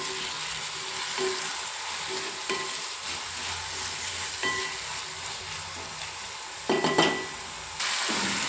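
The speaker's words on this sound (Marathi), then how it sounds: "टॉमॅटो पण छान असं मऊ होईपर्यंत छान असं परतवून घ्यायचे टॉमॅटो पण" Tomatoes sautéing and being stirred in a pan, a soft continuous sizzle broken by repeated spatula scrapes and clinks against the metal, with a louder burst of stirring near the end.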